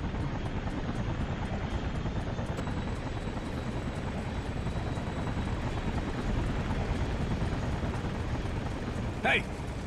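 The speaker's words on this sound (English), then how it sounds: "The back of the chopper." A helicopter in the inFAMOUS video game thrums steadily with fast rotor chop and a dense engine roar, continuous and fairly loud, with a brief electronic chirp near the end.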